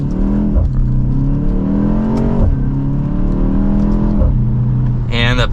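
A 2024 BMW X1 M35i engine pulling through a quick turnaround on pavement, its note rising and falling through several gear-like sweeps before a short whir at the end, loud and close from inside the cabin, with a voice talking over it.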